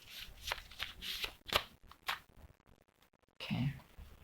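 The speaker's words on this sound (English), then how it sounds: "last shuffle." A deck of cards gets shuffled by hand in several quick riffling bursts with pauses between, close and soft, ending in a final riffle.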